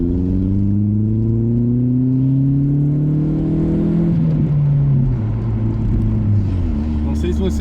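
A 2003 Volkswagen Gol Power with a straight-pipe exhaust drones loudly from inside the car as the engine revs up steadily, then drops and settles, with someone talking over it.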